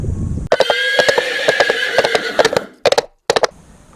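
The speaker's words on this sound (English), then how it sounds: "These are wild horses, by the way." A wild horse neighs loudly up close by a river, a long shrill whinny that wavers, followed by a few short snorting bursts.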